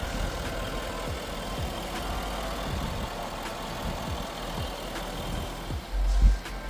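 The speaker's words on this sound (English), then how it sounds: "the 5 litre 380 brake horsepower V8 naturally aspirated engine running there in the background" A 2012 Jaguar XJ's 5.0-litre, 380 bhp naturally aspirated V8 idles in the background with a steady low rumble and faint rhythmic pulsing, and a brief louder bump near the end.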